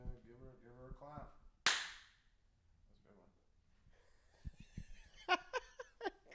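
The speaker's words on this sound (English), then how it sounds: "They don't even see the amazing clap that he does before every episode to sync it all together." One sharp, loud hand clap marks the start of a podcast recording, cutting in after brief talk and followed by laughter and speech.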